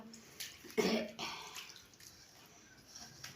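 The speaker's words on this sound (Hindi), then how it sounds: "इसमें डाल दी पानी हल्का सा" A little water is poured into gram flour batter for pakoras, a short splashy pour near the start followed by softer wet stirring and dribbling sounds, close by, with a brief cough-like noise in between.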